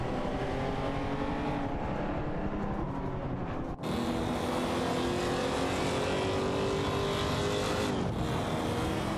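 Race car engines, including a Porsche 928 GTS, roar continuously in an AI racing game, a loud, dense drone of several cars with a brief dip midway before the engine noise resumes.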